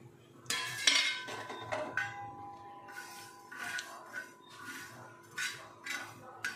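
Spices and fenugreek seeds tumble onto a hot tawa griddle over a gas flame, giving several sharp clinks and rattling pours spaced a second or so apart, close and clear, with no talking.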